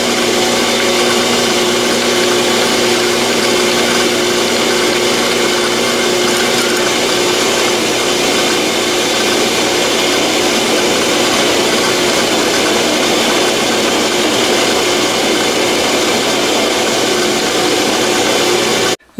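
Metal lathe boring a hole into the end of a workpiece with a letter D twist drill: a loud, continuous whirring grind of spindle and cutting that holds steady throughout and stops abruptly at the very end.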